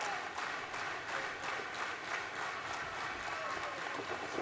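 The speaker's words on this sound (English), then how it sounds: "Crowd coming alive here" Crowd at a live wrestling event in Washington, D.C. keeps up a dense, steady roar of cheering and clapping for the whole stretch, with a commentator's voice faintly mixed in.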